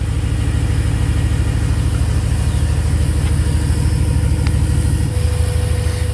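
BMW E92 M3 with headers and a catless, resonated full exhaust, running steadily with a deep, continuous engine drone and slight shift in tone near the end.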